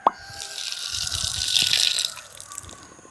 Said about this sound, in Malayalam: വെള്ളം കളയാം.